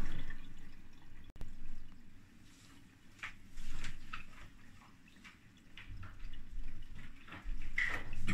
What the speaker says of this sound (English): Okay, I'm adding more water.